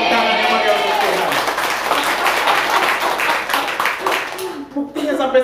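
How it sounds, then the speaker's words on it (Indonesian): Applause from a church congregation at a worship service, sustained clapping filling the space for several seconds, then tapering near the end with a voice coming in. "Berikan tepuk tangan yang meriah untuk Tuhan."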